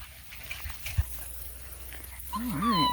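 Puppies yip and whimper nearby, a few faint sounds early on followed by a run of high, wavering whines and squeaks toward the end.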